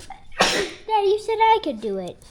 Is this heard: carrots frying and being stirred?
no